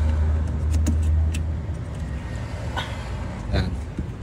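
Toyota Vios second-generation car engine cranking and starting after a fuel pump replacement, a steady low engine rumble running throughout, with a few light clicks and ticks over it.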